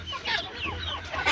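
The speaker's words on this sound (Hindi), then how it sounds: "ये हमारी मिस्री मुर्गी है जी" A golden Misri hen on a farm gives several quick, close clucks in a short burst, over a low background hum.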